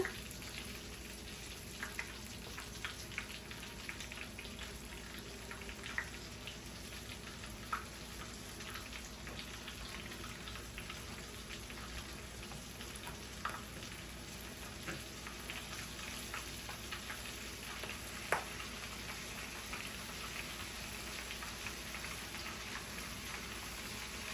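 Breaded pork tenderloin frying in a pan of oil, a steady dense sizzle and crackle with occasional louder pops, continuous throughout and no talking.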